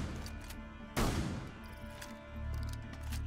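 Gunfire in Rainbow Six Siege: one loud, sharp shot rings out and decays, followed by quieter rumbling game noise, fairly faint overall.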